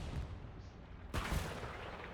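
A single distant artillery blast in the World War II shooter Hell Let Loose, set in Hürtgen Forest on the Siegfried Line, a muffled boom that rises out of quiet background rumble.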